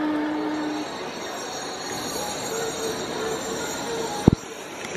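A train pulls into Busan Station with a steady, loud rumble of rolling wheels and carriage noise, a brief squeal early on, and a sharp clunk near the end as it settles.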